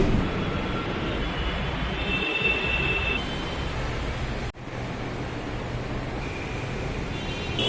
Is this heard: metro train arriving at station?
yes